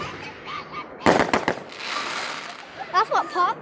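Fireworks exploding outdoors: a quick cluster of sharp cracking bangs followed by a crackling fizz, with people's voices chattering excitedly around them.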